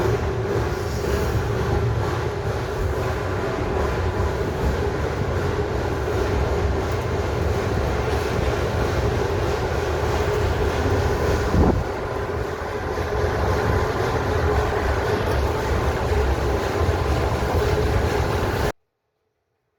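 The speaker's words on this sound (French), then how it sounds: "Le train reprend ensuite sa montée" The Mocăniță narrow-gauge steam train climbs through the Maramureș valley, a continuous rumbling roll of wheels and carriages with a steady mechanical hum and one brief clank partway through, before the sound cuts off abruptly.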